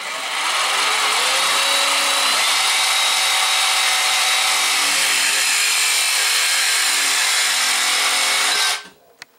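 A saw cuts down a metal closet rod, a loud continuous buzzing power-tool drone that runs steadily for several seconds and then stops abruptly.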